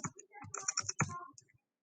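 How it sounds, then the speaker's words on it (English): Quick, close key presses on a calculator keypad while numbers are entered, a tight cluster of crisp taps lasting about a second and a half, then silence. "we're going to type in our X's and Y's"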